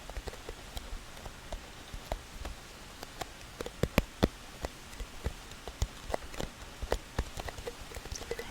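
Rain falls steadily in the background of a soft ASMR session, with scattered sharp drips and patters striking a surface at irregular intervals, close and gentle, with no voice.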